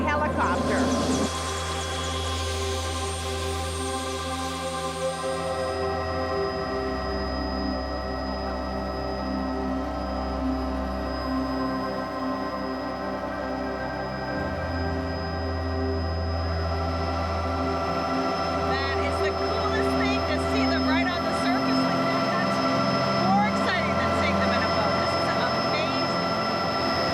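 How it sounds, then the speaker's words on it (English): A helicopter flies out over the sea off New Zealand, its engine and rotor drone steady and loud inside the cabin throughout, with sustained mechanical tones shifting slightly as it goes. "I'm going to go and look by helicopter"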